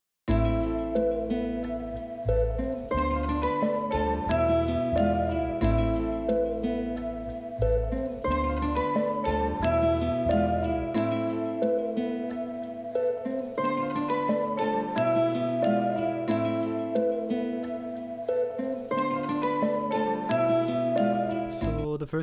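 Layered melodic loop called Prime from a loop kit, a catchy sample: a steady, full mix with a deep bass line in the first half that drops away around the midpoint, leaving repeating plucked and tonal layers throughout.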